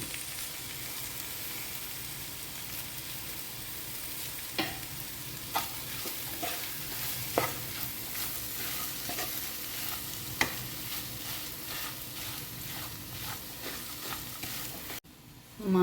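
Curry leaves fry in the potato masala filling for masala dosa with a quiet, steady sizzle and scattered sharp pops and crackles. A soft clunk comes near the end, and no one talks.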